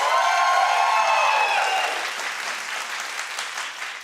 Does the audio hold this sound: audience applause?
yes